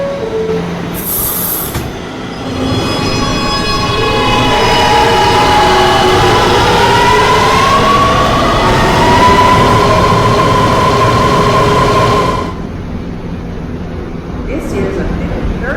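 New York subway N local train running, a loud close rumble with rising and falling whine and wheel squeal through the middle, fading after about twelve seconds.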